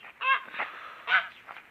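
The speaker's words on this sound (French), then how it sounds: "Là, mon coq meusien." A Meuse breed rooster gives a few short clucking calls up close, three or four quick bursts with brief pauses between them, with no talk over it.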